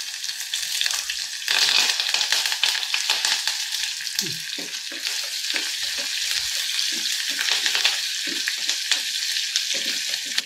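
Onions, dried red chillies and curry leaves sauté in hot oil for a watermelon kulambu, giving a loud, steady sizzle close by with scraping stirs throughout and no talk.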